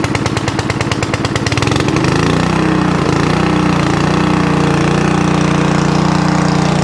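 An old petrol lawn mower stored unused for five years starts on the first pull of the cord, a loud close-up engine that chugs in rapid pulses and then settles into a steady, throbbing run.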